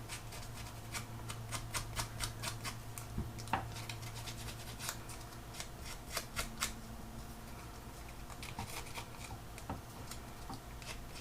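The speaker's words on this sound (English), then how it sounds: "Can be a little more aggressive with the scissors because this is thicker card." Faint, sparse snips and crisp ticks of scissors cutting thick card, irregular and close, over a low steady hum.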